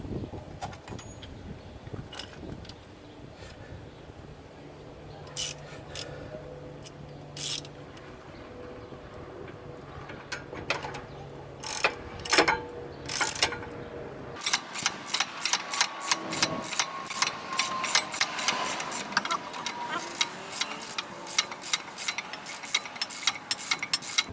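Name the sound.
socket wrench ratcheting 17mm brake bracket bolts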